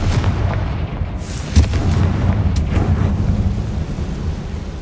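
Fiery spell explosions from the Confringo curse in the Hogwarts Legacy video game, rolling into a loud, continuous booming rumble with a couple of sharper blasts near the middle and no talking.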